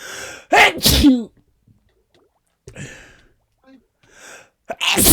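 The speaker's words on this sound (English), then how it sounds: "Oh, I'm gonna sneeze." A sharp, loud sneeze bursts out near the mic, followed by quiet, then a few softer breaths and a second sneeze at the end.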